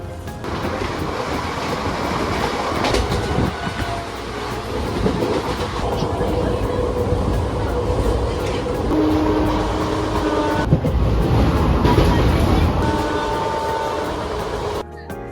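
Asansol Digha Express running on rails, a steady loud rumble of wheels and carriage noise throughout with a brief high-pitched squeal or whistle partway through and faint voices underneath.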